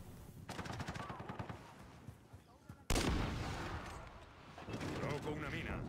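Gunfire in the Modern Warfare video game: rapid automatic bursts at first, then a loud close blast followed by dense continuing shots and rumble, with people talking over the action.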